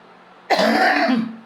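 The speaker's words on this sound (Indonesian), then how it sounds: "Loh, batuk." One abrupt, rough cough or throat clear, short and fairly close, in an otherwise quiet moment.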